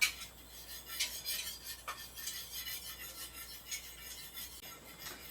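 Homemade yogurt is stirred by hand, making soft rasping, scraping strokes in an irregular rhythm, faint and close, with no voices.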